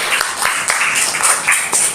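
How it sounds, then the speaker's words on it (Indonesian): A classroom group applauding, with brisk, dense clapping from many hands, loud and close, pulsing in uneven waves for a couple of seconds. "Tepuk tangan lagi."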